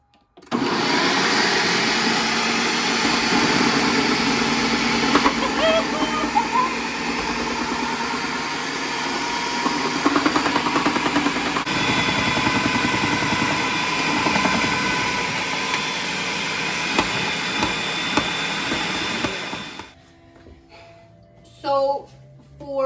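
Electric kitchen appliance grates carrots for borscht, a loud, continuous whirring motor drone with shifting grinding texture that runs for about twenty seconds before cutting off, leaving quieter handling sounds and faint talk.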